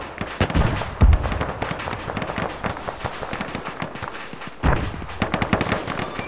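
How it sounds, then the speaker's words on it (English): Gunfire in Arma 3 during a large multiplayer Portuguese colonial war reenactment: rapid rattling automatic bursts and single shots at mid distance, with two heavier close reports, firing continuously throughout. "Hugs, tell your men to hold fire."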